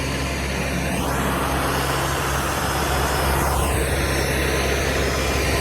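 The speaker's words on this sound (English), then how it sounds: "Truck won't start. Tractor will though." An old farm tractor engine runs in freezing winter cold, a steady loud low rumble with a constant hum, while the pitch sweeps upward twice over a few seconds as the engine is revved.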